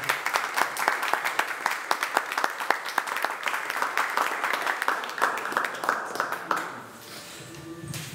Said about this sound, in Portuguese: Vamos aplaudir o padre.